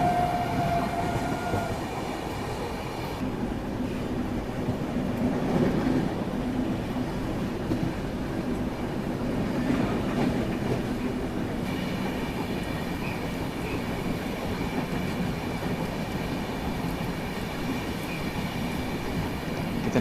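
An express train hauled by a diesel locomotive runs steadily along the rails, giving a continuous heavy rumble with rhythmic wheel noise and faint squeals, heard close and without speech.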